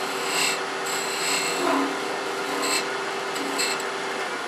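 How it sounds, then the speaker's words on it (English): A wood lathe tool takes light cuts on a turned wooden napkin ring, a soft scraping rasp that swells and fades in short repeated passes, fairly quiet and close, with no talking. "I'm going to come in from the beginning, take light cuts, and just cut it toward the back"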